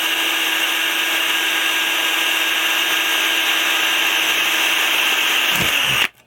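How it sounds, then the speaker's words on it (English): A power drill whines steadily at close range for several seconds, drilling into wood, then cuts off abruptly near the end. "That's the drilling done for now."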